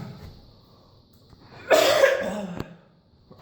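A man coughs once in a harsh, loud burst, close and alone, fading into a brief throat rasp.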